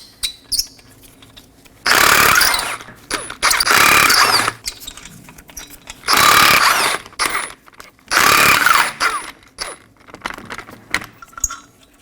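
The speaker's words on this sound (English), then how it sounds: "We're going to locate 5 19mm lug nuts, holding the wheel down. Remove these as well." Four bursts of rapid ratcheting click from a wrench removing 19mm lug nuts on a 2014–2023 Ford Transit Connect front wheel, each a few seconds long with quiet gaps and faint clinks between.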